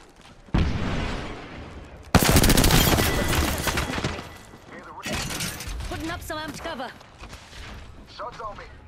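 Dense rapid gunfire in a battle royale video game match, loud bursts and sustained automatic fire with a sharp crack partway through, while a player talks over the shooting.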